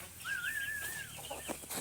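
A single short, faint rooster call sounds in a quiet setting, a brief drawn-out cluck with soft background noise.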